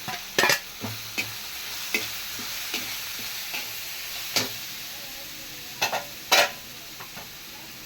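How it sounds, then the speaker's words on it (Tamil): Pirandai pickle ingredients are sautéed in a pan, a soft low sizzle broken by sparse spoon scrapes and taps, some sharper knocks near the end, and no voices. "எல்லாத்தையும் ஒரு வதக்கு இப்போ பரண்டி அடிச்சிருக்கோம்னா அதையும் ஒரு வதக்கு"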